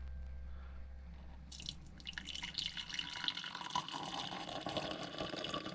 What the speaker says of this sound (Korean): 이렇게 잡고 그대로 부어 보겠습니다